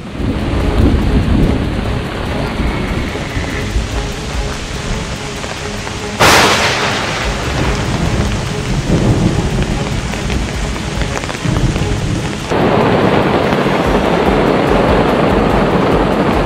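A heavy rain and wind storm lashes a wild gravel pit carp-fishing camp, with loud, constant rain drumming on surfaces, gusts, and a sharp crack partway through, the roar continuing unbroken throughout.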